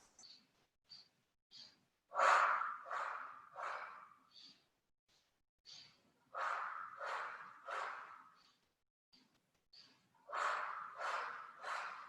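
Deep Pilates breathing, three slow inhales and three exhales: close, airy whooshes in distinct groups with short pauses between them and soft clicks in the gaps.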